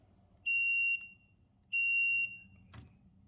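Electronic buzzer in beep mode on a speed-shop workbench, giving two loud, steady high-pitched beeps, each about half a second long, followed by a short click.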